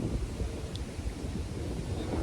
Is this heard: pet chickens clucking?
no